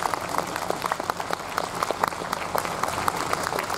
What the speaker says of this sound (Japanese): 今一度大きな拍手をお願いします。